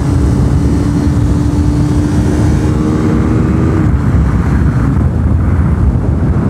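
A KTM RC390 single-cylinder motorcycle engine drones steadily while riding, its tone dropping slightly partway through, buried under heavy, constant wind rush at the microphone.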